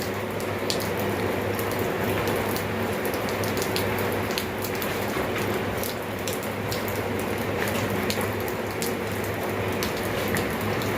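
Steady rain falls without a break, a dense, even hiss of drops on surfaces that stays at the same moderate loudness throughout, with no voices.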